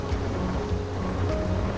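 A river in the Path of Titans game rushes steadily through open plains, a continuous low watery roar with a faint wind-like hiss, no talking.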